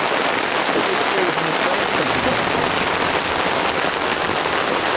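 Steady heavy rain pours down, a dense continuous hiss with no pauses, close and loud throughout.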